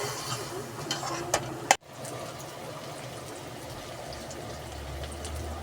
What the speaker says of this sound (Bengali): এভাবে মাংসটা ভাজা ভাজা করে নেব।